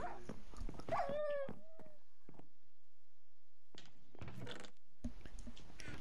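A dog in the video game Minecraft whimpers and yelps in short high whines near the start, then the sound drops nearly to silence before bursts of game noise return.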